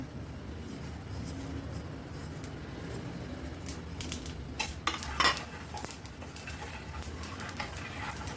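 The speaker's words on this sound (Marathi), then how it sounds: "शेंगदाणे आपली भाजून झालेली आहे याच्यात धणे जिरं आणि तीळ टाकते भाजायला" Coriander seeds, cumin and sesame seeds dry-roasting in a pan after peanuts, with steady low rattling and scraping of utensil against the pan, a few sharper metallic clinks toward the end, no talking.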